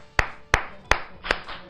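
Five sharp, evenly spaced hand claps from a single person during a televised debate, each one crisp and close, with quiet pauses in between.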